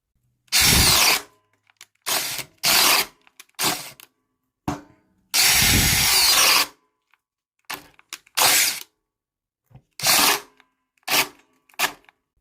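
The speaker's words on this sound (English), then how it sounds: "Let's try it with the DeWalt DCD 709 Subcompact. We're going to see how this does in high speed." A DeWalt DCD709 subcompact cordless drill whirs at high speed in repeated bursts, some brief and some held for over a second, with quiet gaps between them.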